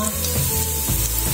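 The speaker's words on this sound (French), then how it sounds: "je ne laisse pas trop dorer, sinon l'ail peut brûler" Garlic sizzles and fries in a pan, a steady close crackle with faint stirring scrapes and no voices.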